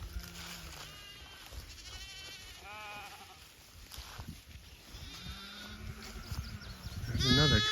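Baby lambs bleat on a green pasture, several thin wavering cries scattered close and farther off over outdoor ambience, with a louder cluster of bleats at the end.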